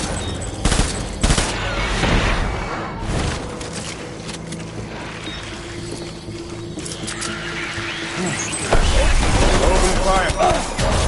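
Gunfire in the Death Stranding video game comes as scattered bursts and volleys mixed with horse whinnies and clip-clopping hooves, sounding busy and fairly loud amid battle noise and brief voices.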